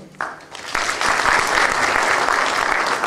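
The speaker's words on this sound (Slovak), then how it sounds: "Poprosím aj potlesk." A crowd at a sports awards ceremony starts clapping after a few scattered first claps, then quickly swells into full, sustained applause that carries on at a steady level.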